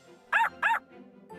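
A small dog in the Bubble Guppies video game gives two sharp, clear barks in quick succession, then a fainter third yip, alone and close.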